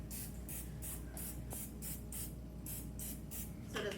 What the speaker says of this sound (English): I think I am going to spray it,